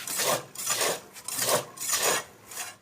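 Rhythmic raspy creaking from a motorcycle front fork with worn-out bushings, about five drawn-out strokes in steady succession, close up with no voices.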